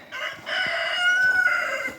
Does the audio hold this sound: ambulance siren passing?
no